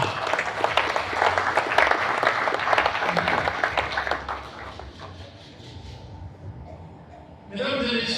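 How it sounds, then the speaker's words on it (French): An audience at a ceremony for the presentation of New Year's wishes applauds steadily and fairly loudly, then the clapping thins and fades out, with a brief burst of sound returning at the end. "Je vous invite à applaudir pour Monsieur le secrétaire général."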